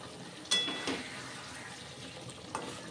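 Rohu fish curry with raisin paste and whole green chillies cooking in a pan, a soft low sizzle under a few sharp clinks and scrapes of a utensil against the pan.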